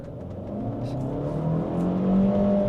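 A Chery Tiggo Cross engine over-revs to about 4,500 RPM, a steady droning roar that climbs in pitch and grows louder over a few seconds, heard from inside the car with no talking.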